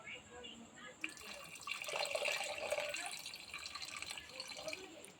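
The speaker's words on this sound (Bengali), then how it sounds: "চিড়েটা ধুয়ে নিলাম।" Flattened rice (chira) being washed in water, soft continuous sloshing and trickling at low level, building slightly after the first second and holding steady, close by.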